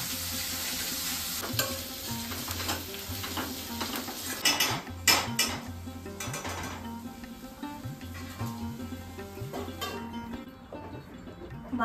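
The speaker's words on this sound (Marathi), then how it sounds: "बारीक चिरलेली मस्त कोथिंबीर त्यात घातली आणि भाजी छान मिक्स करून घेतली" A vegetable curry with finely chopped coriander is mixed in a pan, with a soft sizzle under repeated metallic scraping and clinks of a spoon against the cookware.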